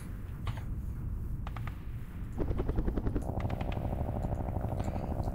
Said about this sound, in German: Gut, dann können wir die Hubschrauber starten lassen